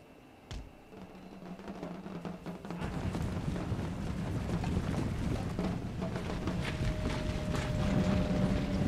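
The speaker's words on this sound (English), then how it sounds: "Hear those feet marching?" A dense, continuous rumble of many marching footsteps of Russian grenadiers in Empire: Total War, steady and building slightly in loudness, with faint clanking mixed in.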